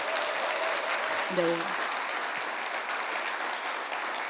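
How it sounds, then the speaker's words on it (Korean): Sustained applause from a large seminar audience fills the hall at an even, steady density, with a brief spoken voice cutting through it near the middle. "나는 그렇게 될 것이다 라고 믿으시는 분은 큰 박수 한번 보내주시기 바랍니다."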